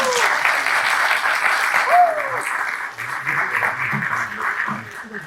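Audience applause welcoming a speaker at a talk on forest fires in Bolivia, steady broad clapping from a crowd that carries through, with murmured voices underneath.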